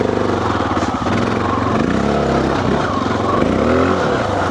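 A 2025 Honda XR650L single-cylinder motorcycle loping along steadily at low throttle on a NorCal canyon trail, its engine note rising and falling gently with small throttle changes, loud and continuous close to the rider.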